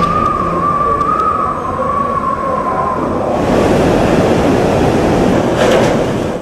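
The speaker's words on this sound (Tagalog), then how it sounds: "Ang hangin umuungol sa lakas." Typhoon Yolanda's wind roars continuously, a loud broadband rushing howl with a faint whistling tone early on, swelling stronger midway and staying dense and unbroken.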